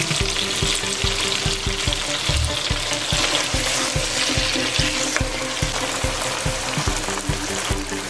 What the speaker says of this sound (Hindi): चिकन अच्छी तरह फ्राई हो गया है।